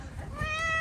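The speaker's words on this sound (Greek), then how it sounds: "Αυτή είναι μια ωραία γκρι γάτα." A grey cat gives a single short, rising meow close by, clear against a faint background.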